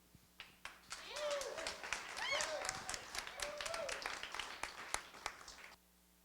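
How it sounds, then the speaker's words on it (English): A meetup audience claps for an incoming speaker: steady, fairly faint applause from a small crowd builds and holds for several seconds, then tapers off, with a few voices over it. "So please give her a round of applause."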